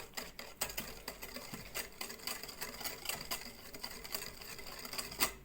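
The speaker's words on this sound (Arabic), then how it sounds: "نبتدي نقلبها كده" Liquid ingredients for a milk cake batter are stirred in a bowl, giving a quiet run of rapid clicking, tapping strokes from the utensil, faint and close, with no talk.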